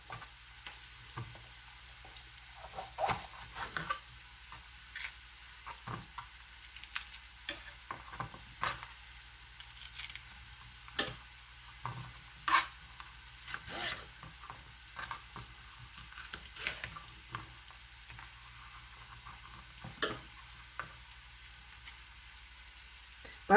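Onions fry in a pan with a steady close sizzle, punctuated by intermittent scraping and clicking from stirring, with no talking over it.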